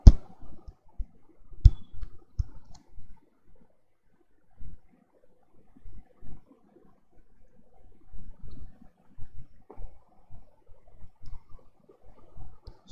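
A computer mouse clicking at a desk, with sparse, sharp, close clicks scattered irregularly through near-silence.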